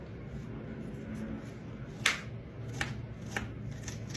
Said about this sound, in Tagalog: Si mama naman kapag naghihiwa ng sibuyas.